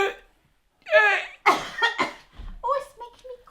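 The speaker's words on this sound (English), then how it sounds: "it's making me cough" Someone coughs harshly after too much pepper in a homemade sausage mix, giving several close, loud coughs and throat-clearing bursts mixed with voiced sounds.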